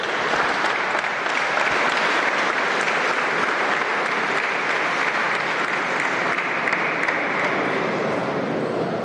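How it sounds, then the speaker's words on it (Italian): Warm, sustained applause from an outdoor or hall audience greets a choir performance, a dense, even roar of clapping lasting the whole stretch without speech. "Grazie di questi calorosi applausi"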